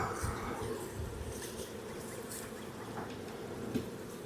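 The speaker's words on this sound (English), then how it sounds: "there's some nurse bees up here because there's brood." Honey bees, including nurse bees over brood, buzz around an open beehive during a Demaree split, a steady close droning hum with no one talking.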